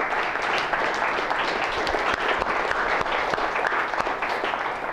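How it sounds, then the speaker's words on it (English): A classroom audience claps steadily for course teaching assistants at an exam review session, a dense, even round of applause lasting throughout with no talk over it. "let's give them a round of applause"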